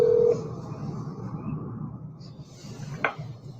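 A single short tone rings out at the start of a phone call, followed by a low hum of line noise and a faint click.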